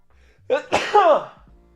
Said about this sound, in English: A little sneezy there, huh?